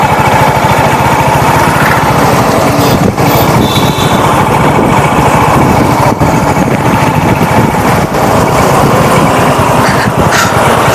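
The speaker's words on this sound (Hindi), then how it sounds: "चले जा रहे हैं अपनी हंटर 350 के ऊपर।" A Royal Enfield Hunter 350 motorcycle engine drones steadily and loudly while the bike is ridden, a constant close thrum with no pauses.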